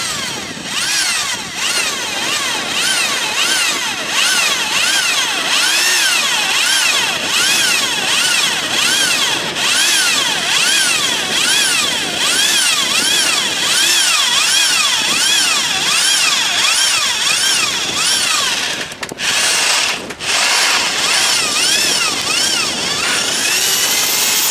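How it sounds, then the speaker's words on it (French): A power drill re-drilling holes on a sailboat deck fitting, loud and close with a continuous whining motor that wavers steadily in pitch, briefly cutting out near the end before resuming. "Donc je reperce les trous."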